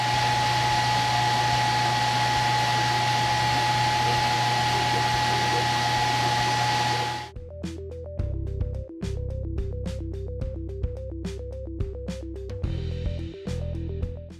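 Cooling fans of a Creality Falcon 2 Pro laser engraver, the enclosure fan and the laser head fan, roar as a steady broadband whoosh that cuts out abruptly, giving way to the engraver's rhythmic stepping motor whine and sharp clicks.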